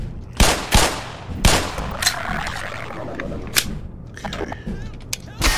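Loud gunshots from the Black Mesa video game crack out, several sharp single shots spaced irregularly across the scene, with a brief spoken word in between.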